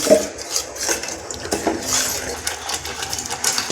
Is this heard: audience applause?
no